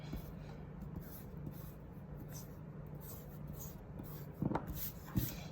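Eraser rubbing on paper while shading a heart drawing, soft scratchy strokes repeating close by and quietly, with a couple of sharper taps near the end.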